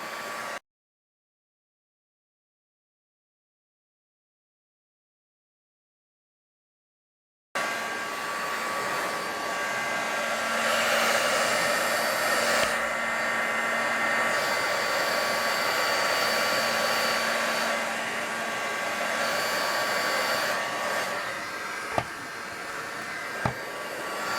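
A heat gun blows hot air in a steady, loud, close roar after a silent start, used on textured paint over a mirror frame, with a faint click near the end.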